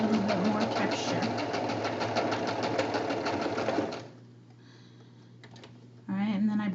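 A sewing machine runs in a steady, rapid stitching rhythm while sewing a small leaf-shaped pillow from recycled fabric, pauses for a few seconds with a light click, then starts stitching again.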